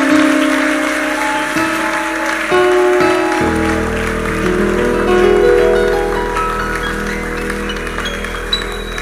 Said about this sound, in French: Acclame pour le Seigneur pendant qu'il regagne sa place.